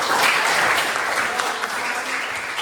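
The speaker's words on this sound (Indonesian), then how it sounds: "terima kasih dan tepuk tangan tentunya" Students applaud at the close of a class lesson, a steady ripple of many hands clapping at moderate volume that carries on without pause.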